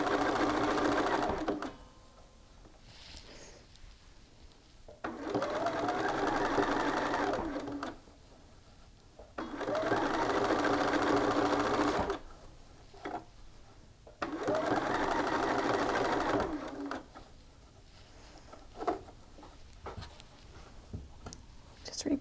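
Bursts of sewing machine stitching run along the side seams of a garment, starting and stopping in about four runs of steady whirring with quiet pauses between, close by and occasionally under soft talk.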